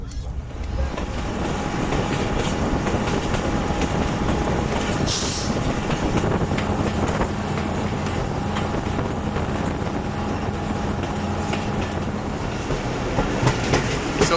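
The Fareed Express passenger train rolls into Bihari railway station in the rain, a continuous rumbling of wheels and carriages with rhythmic clickety-clack, a brief metallic squeal, and steady close-up motion noise throughout.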